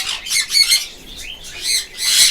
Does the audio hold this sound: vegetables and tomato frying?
no